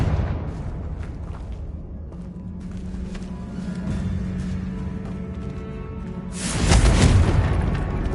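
A Confringo fire spell detonates in the Hogwarts Legacy video game, a loud booming blast near the end that follows a steady low humming drone.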